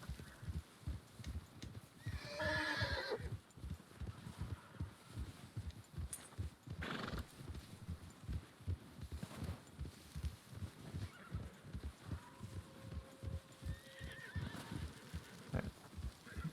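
Horse plodding uphill in a Wild West roleplay game, steady clip-clop hooves thudding at close range throughout, with a loud whinny early on and fainter neighs later.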